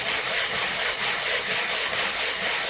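A coarse abrasive rubbing rust off metal, a continuous close gritty scraping with a steady back-and-forth rhythm and no talking.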